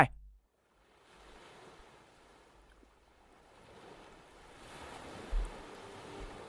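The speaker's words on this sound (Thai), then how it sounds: "เหมือนคลื่นน้ำ" A soft, washing rush like surf rolling in, rising gradually and swelling louder toward the end, with a faint thump near the close.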